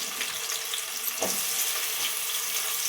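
Onion dropped into hot oil in a home Telugu kitchen, giving a steady close crackling sizzle throughout with a brief louder hiss partway through.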